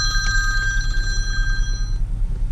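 A telephone rings steadily with a bright repeating bell tone under a bridge, continuing for about two seconds before cutting off, over a low background rumble.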